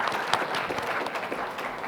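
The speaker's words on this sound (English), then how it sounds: "please welcome him with a big applause" An audience at an invited talk session applauds a speaker with continuous, fairly close clapping, a few individual claps standing out from the steady crowd sound.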